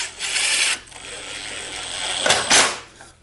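A driver sinks exterior-grade Torx head fasteners into wood on a garden obelisk trellis, two close whirring bursts separated by a quieter stretch.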